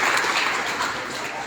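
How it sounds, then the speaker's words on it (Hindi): Audience applause at a political party rally, a dense, steady wash of many hands clapping together for a short burst. "एक बार जोरदार तालियां हम चौधरी जगमाल सिंह जी के लिए बजाएंगे"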